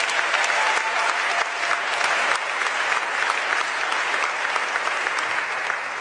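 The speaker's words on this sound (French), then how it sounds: "Est-ce qu'on peut acclamer pour elle?" A church congregation applauding and cheering, a loud steady wall of clapping from a large crowd that holds evenly throughout without a break.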